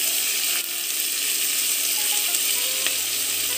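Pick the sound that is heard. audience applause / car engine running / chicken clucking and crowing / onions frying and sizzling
onions frying and sizzling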